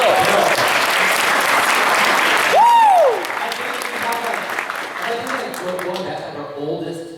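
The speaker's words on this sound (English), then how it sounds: "Give a round of applause for Bill." A Comic Con panel audience in San Diego bursts into loud, close applause with cheering. A sharp whistle cuts through midway, then the clapping thins out while faint voices continue underneath.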